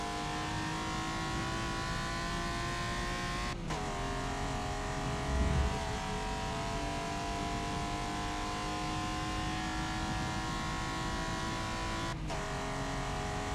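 A race car in Forza Motorsport holds a steady, loud engine drone throughout, with two brief shifts in pitch near the start and end of a lap approaching turn 10; no one speaks.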